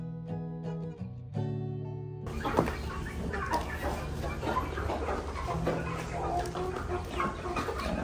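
Chickens cluck and squawk continuously nearby in a busy farmyard, after a brief opening of tonal music.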